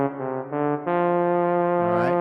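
A trombone voice on an electronic organ plays a few steady, brassy held notes, the last one bending upward at the end, loud and alone.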